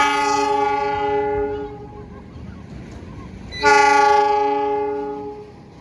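A passenger train on an Indonesian railway line sounds a long, loud horn blast with steady tones. The horn cuts off, the rumble of the passing train carries on, and then a second loud horn blast starts that slowly fades away.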